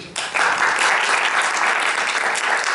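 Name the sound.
audience applause for a conference speaker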